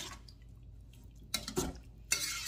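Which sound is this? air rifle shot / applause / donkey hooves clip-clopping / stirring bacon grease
stirring bacon grease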